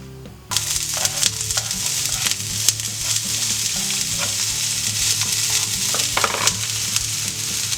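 Onion frying in a spoonful of oil in a hot pan, a loud, steady sizzle that starts abruptly and runs continuously, with faint crackles and scrapes on top.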